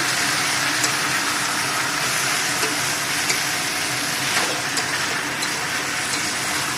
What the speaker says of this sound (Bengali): তো এখানে আমি 1 চামচ নুন দিয়ে দিচ্ছি, দিয়ে আবার নাড়বো।